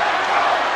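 A boxing arena crowd chants and roars in a steady, continuous wash of many voices, loud and unbroken throughout.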